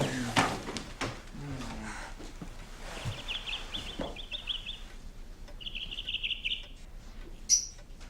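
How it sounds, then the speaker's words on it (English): Two small lovebirds chirp in a room, giving thin high trills and short tweets in a few separate bursts, with people talking, footsteps and handling noises around them. "Two teeny little birds."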